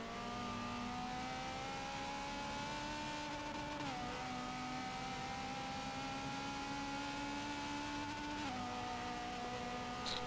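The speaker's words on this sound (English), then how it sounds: "Driving the good old 1984 Ferrari." Engine of a 1984 Ferrari race car in Forza 7 at Virginia International Raceway, a faint steady high-revving drone with two distinct gear shifts dropping the pitch.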